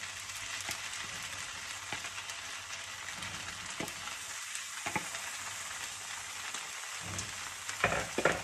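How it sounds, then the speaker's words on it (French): Vegetables and seafood stir-fry in a wok, a steady close sizzle broken by occasional scraping and clinking strokes of the utensil, with louder stirring near the end and no talking. "Je vais mélanger."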